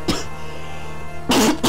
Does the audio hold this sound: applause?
no